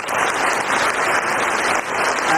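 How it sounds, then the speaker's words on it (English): A loud, unbroken burst of audience clapping rises for the girls seated on stage, dense and even from start to finish with no speech over it. "let's have a round of applause for them"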